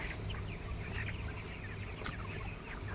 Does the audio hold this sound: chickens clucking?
yes